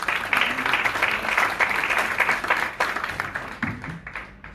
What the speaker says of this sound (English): Ladies and gentlemen, a huge round of applause for Ilva Jordan.